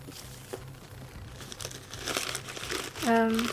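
Tissue paper crinkles and rustles close up while a Coach Parker Prairie floral print bag is unwrapped, a steady papery crackle that swells near the end, with people talking over it.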